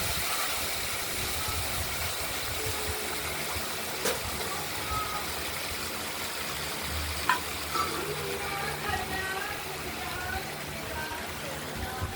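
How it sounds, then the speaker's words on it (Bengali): Spices sautéed with potatoes in a pan for a river bele fish curry make a steady low frying hiss across the whole stretch, with a few faint clinks and a voice in the background. "ভাজা হয়ে গেছে মশলাটা আমরা দিয়ে দিলাম আলুর সঙ্গে কষাবো"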